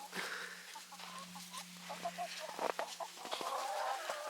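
Hens on a snowy farm cluck softly and irregularly, several short calls close by over a faint steady hum, with no talking.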